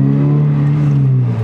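Toyota GR86 sports car with a manual gearbox, its engine giving a steady, loud, close droning hum that holds nearly level throughout.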